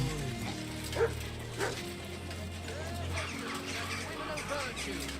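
A dog in the video game Kingdom Come: Deliverance 2 barks a couple of times over a steady hum and background chatter, with some bird-like chirps mixed in.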